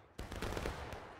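Ragged musket volley from a line of infantry in the Civil War game War of Rights, a sudden loud crash of many overlapping shots with crackling follow-up reports, close and without talk.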